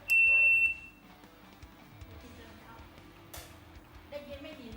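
A shrill electronic beep from a homemade thermometer alarm sounds once at the start, loud and close, followed by quieter room noise with faint background talk.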